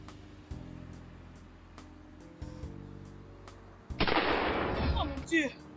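Gunshots in a French-dubbed Nigerian film scene. A sudden loud burst of gunfire breaks in midway and is mixed with a shouting voice, after low tonal background music.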